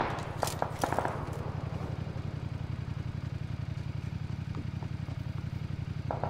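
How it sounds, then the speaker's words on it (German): A motorcycle engine in PUBG runs with a steady, low, pulsing drone throughout, moderately close, with a few clattering knocks early on. "Motorrad."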